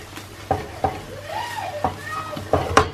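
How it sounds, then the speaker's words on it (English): Curry being stirred in a pan for an egg korma, with a spoon scraping and clacking against the pan in several distinct knocks over a soft simmering sizzle, close and moderately loud, without speech. "I'm going to give it a good stir to see if it hasn't stuck to the pan"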